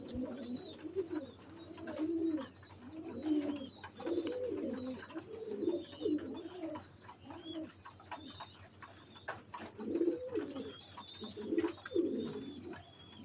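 Kaldom-Teddy cross highflyer pigeons coo in repeated soft, rolling phrases close by, a steady rhythm of low throaty calls against a quiet room with faint chirps above.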